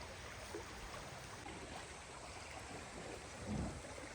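Water rushes out from beneath a waterwheel-like structure in Balmonte Park in Vilnius, Lithuania, a steady, even wash of flowing water heard alone at moderate distance.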